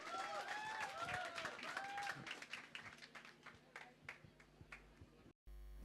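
Audience applause for dancer Ravindra Goyal at the Choupal Stage, a crowd clapping loudly at first and then thinning to scattered claps, with whoops and a voice over the opening seconds.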